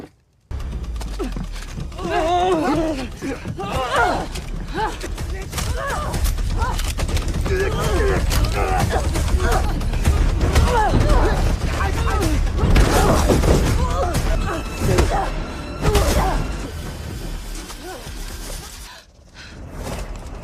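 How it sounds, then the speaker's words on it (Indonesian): Gunfire and explosions ring out through a chaotic film battle scene, with sustained loud crackling shots and blasts over a dense rumbling mix, shouting voices woven throughout. "Peluru beterbangan. Ledakan terjadi."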